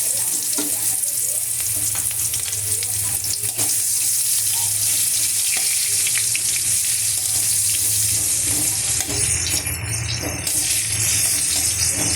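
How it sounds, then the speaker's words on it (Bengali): Onions and panch phoron fry in a wok, giving a steady, dense sizzle that runs loud and close for the whole stretch with no pauses and no voices. "দেখুন আমি পেঁয়াজটা হালকা করে ভেজে নিলাম"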